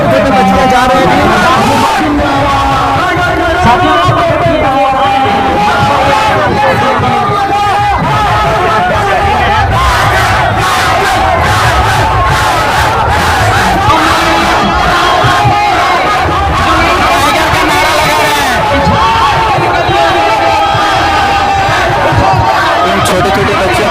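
A huge crowd roars and chants nonstop at a political rally in Jharkhand, loud and dense throughout, with someone speaking over the din.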